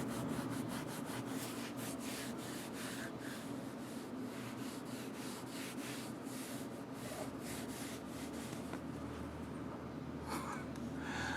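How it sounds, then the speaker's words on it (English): A rag buffs excess silicone cleaner off a Glock slide, making a continuous, close rubbing and swishing with quick repeated strokes at an even, soft level. "now I'm going to take the rag to buff it back off"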